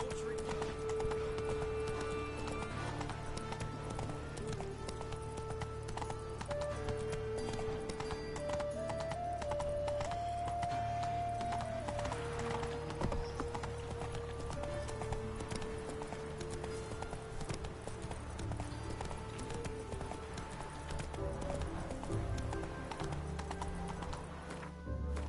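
Roach, the horse in The Witcher 3, gallops with quick, rhythmic hoofbeats over a sustained musical score. A voice speaks briefly in the mix.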